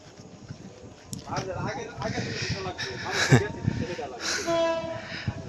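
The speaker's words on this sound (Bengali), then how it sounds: "আরেকটা ট্রেন এখানে আসতেছে" A train rumbles toward and across a bridge (Shila bridge) in the Moshakhali area, a rising mechanical roar with a horn-like tone near the end, heard under people talking nearby.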